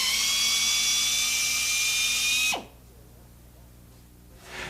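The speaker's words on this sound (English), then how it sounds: "Excessive drilling can result in a hole that is too large." A handheld drill bores out a puncture injury in a tire during repair, a loud high-pitched steady whine close to the microphone that winds down and cuts off partway, leaving quiet room noise and a faint rise at the end.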